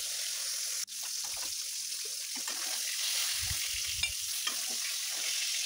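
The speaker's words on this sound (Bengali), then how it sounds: "রুই মাছগুলো ভাজা হয়ে গেলে এখন আমি উঠিয়ে নিব।" Rohu fish pieces fry in a pan with a soft, steady sizzle, interrupted by a sharp click, some scraping stirring and a few low thuds, fairly quiet throughout.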